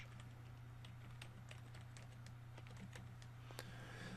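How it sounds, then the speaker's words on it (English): Someone types quickly on a computer keyboard with quiet, scattered clicks. A steady low electrical hum runs underneath. "so I'm gonna type pictures"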